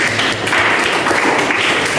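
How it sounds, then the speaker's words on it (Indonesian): Steady, dense applause from a class of students fills the room, continuous clapping with little talk over it. "Tepuk tangan."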